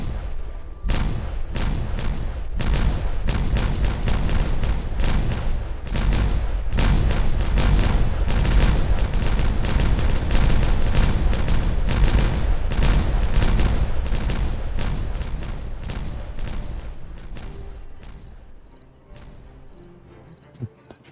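Explosives going off at a lake in the game Timberborn, a dense, prolonged barrage of overlapping booms and cracks that roars loudly for about fifteen seconds, then thins out and fades to scattered pops near the end.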